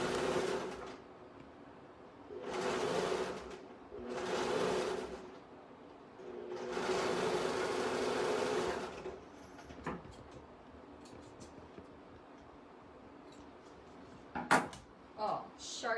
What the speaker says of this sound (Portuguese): Vou rebater a costura.